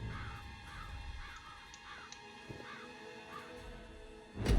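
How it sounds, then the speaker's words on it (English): Crows caw repeatedly in a HITMAN video game scene, a series of hoarse calls spaced across the moment over a steady ambient bed, ending in a louder low thump. "Damn birds."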